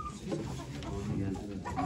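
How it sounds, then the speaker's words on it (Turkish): Chickens cluck in short, soft bursts at a poultry auction in Ankara, faint and mixed with background crowd murmur. "Güzel bir tavuk aldım."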